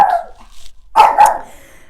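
A pet dog barks in two sharp close bursts after a softer opening yelp or whine, loud and alone with no talking over it.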